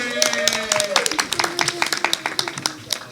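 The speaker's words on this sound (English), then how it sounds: "Keep on clapping, it's all right." Audience clapping at a Brooklyn community board meeting, a steady patter of many hands over a few seconds with a voice speaking through it.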